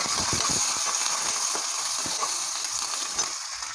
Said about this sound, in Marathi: लसूण आणि लसूण हिरवी मिरची ठेचलेली मध्ये घालून घेते आहे